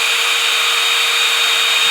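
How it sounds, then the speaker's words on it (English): A drill bores steadily through the back of a guitar body in a workshop, its constant whirring hiss loud and close with no pauses or talk. "I'm drilling through from the back side of the body"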